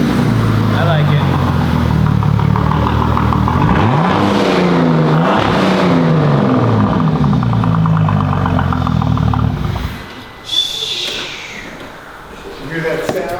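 A Bentley engine running without coolant or air-flow sensors connected in a repair shop, rumbling and rising and falling with several revs before dropping away near the end, with people talking nearby.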